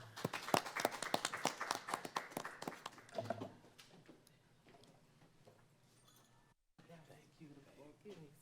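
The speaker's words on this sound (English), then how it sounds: "give a warm round of applause" Warm audience applause at a women's resilience summit, loud sharp claps for about three seconds, then thinning into scattered clapping and murmur as voices begin talking over it.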